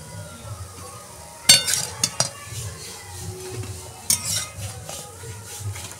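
Bora fritters lifted one by one out of a frying pan, with a few sharp metal clinks of a utensil against the pan over faint sizzling and kitchen clatter, no talking.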